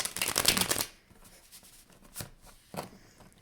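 A Fountain Tarot deck is shuffled up close, with a dense riffling burst of cards followed by a few lighter shuffles and taps.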